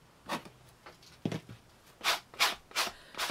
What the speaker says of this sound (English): you can still use your sanders and that to distress the edges